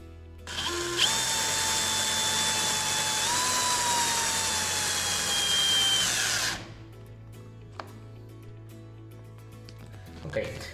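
A power drill drives screws into the hinges of a flush-mounted interior door, running in one steady, loud whine for about five seconds with a slight pitch change before stopping, followed by faint handling clicks.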